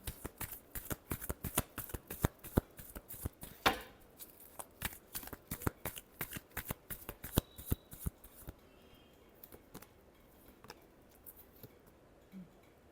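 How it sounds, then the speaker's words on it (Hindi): Tarot cards are shuffled by hand up close, a crisp run of rapid riffling flicks lasting about eight seconds before easing into softer, sparse card handling, quiet and with no talk. "Last shuffle."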